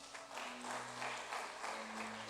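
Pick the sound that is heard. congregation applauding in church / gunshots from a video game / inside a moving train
congregation applauding in church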